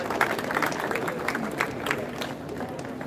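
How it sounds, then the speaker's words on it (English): Outdoor crowd at a charity run event in a housing estate gives a round of applause, scattered claps and cheers over a broad murmur, fairly close. "give a big round of applause"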